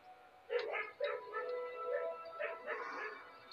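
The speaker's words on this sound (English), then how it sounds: "my dogs are barking at something" Several dogs bark and yip in quick overlapping bursts, fairly close and loud, with a whimpering, howling quality in a Roblox action movie scene.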